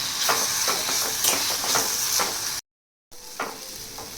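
Onion masala being stirred in a hot pan with half a spoon of garam masala, a steady sizzle and hiss with repeated scraping strokes, a brief gap, then more stirring, close and clear without voices.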